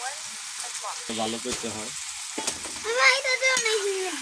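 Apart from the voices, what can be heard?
tomatoes added to sizzling rui fish curry in pan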